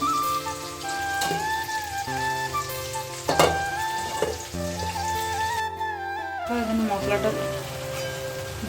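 Onions and tomatoes frying in a pan for a home-cooked meal, a soft steady sizzle under tonal music and background sounds, with occasional stirring clatters and a brief break midway.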